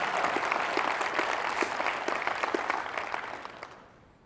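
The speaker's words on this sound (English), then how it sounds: "If one claps, we all clap." Keynote audience at an insurance agents' event applauds in a dense, continuous wash of clapping that holds steady and then fades out toward the end.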